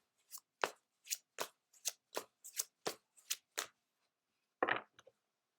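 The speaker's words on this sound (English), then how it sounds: "Next, we will pull a card from the How to Love Yourself Affirmation deck." An affirmation card deck is shuffled in about a dozen crisp, evenly spaced riffles, close and quiet, followed by a pause and then a single softer slide as one card is pulled out.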